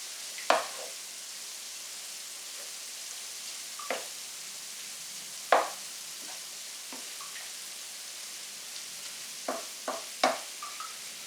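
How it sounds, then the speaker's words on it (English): Spaghetti bolognese sauce being stirred in a pan, with a spoon scraping and knocking against the metal in scattered soft bursts over a steady faint sizzle, close by and without talk. "A lot of stirring in this"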